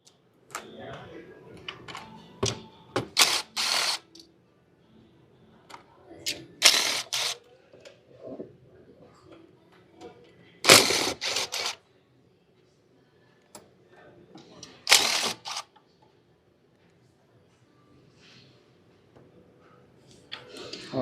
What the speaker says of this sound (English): we're gonna remove our 2 nuts, 3 bolts in here, and let's try to move this intake manifold